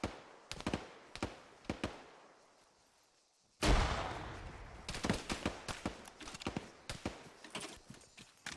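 A grenade explodes in ArmA 3 with a sudden loud, close blast midway through. A rumbling tail follows, and sharp gunshots crack before and after it.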